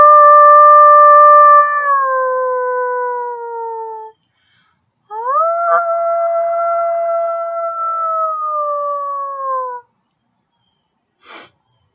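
A person imitates a wolf howl with the voice: a long, loud sustained howl that slowly falls in pitch, a brief pause, then a second rising-then-falling howl, ending with a short faint breathy noise.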